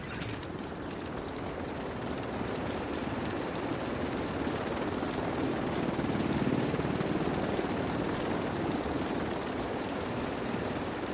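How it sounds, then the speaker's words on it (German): A helicopter in the video game The Division 2 flies off, its rotor a steady, fairly loud broadband drone that keeps going for the whole stretch with no one speaking. "Heli kehrt zur Basis zurück."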